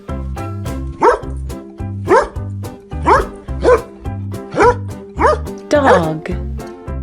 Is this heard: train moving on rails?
no